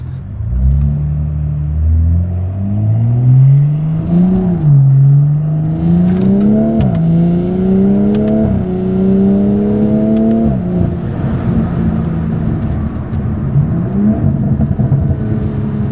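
A 500hp BMW car engine revs hard at a gas station, climbing in several loud, close rising sweeps before settling into a rough, throaty idle, with no voices.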